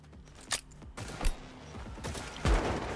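Gunfire in Cyberpunk 2077 pops in a few separate shots, each a short punchy burst over a steady background hum.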